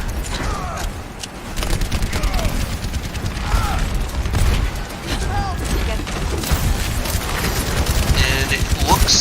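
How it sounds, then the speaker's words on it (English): Pharah's rocket barrage in Overwatch, a dense stretch of rapid mechanical firing and booming impacts within busy game noise, while a commentator talks throughout. "Hairball already has another barrage ready to go"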